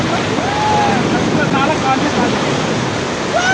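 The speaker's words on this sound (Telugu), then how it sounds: "అమ్మో, ఈ బోట్ చాలా స్పీడ్ గా వెళ్ళిపోతుంది" A rafting boat on a fast river in Shimla rushes along with a loud, constant roar of churning water and wind close by, with faint voices rising briefly over it.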